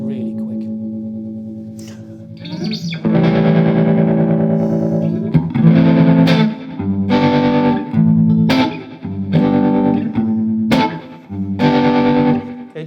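Electric guitar through a Source Audio Vertigo tremolo pedal at fast speed with reverb: loud sustained chords and notes pulsing rapidly in volume, with separate strummed bursts ringing out into a reverb tail.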